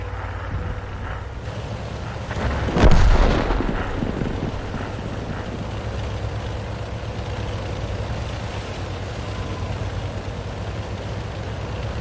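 A single heavy artillery boom lands about three seconds in, in a tank video game while playing the British heavy tank line. It is a deep, loud blast with a fading rumble over a steady engine drone.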